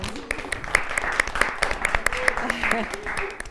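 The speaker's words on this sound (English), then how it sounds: "Give her a round of applause." Audience at a high school photography competition event applauds in a dense, continuous patter of claps, with voices talking over it throughout.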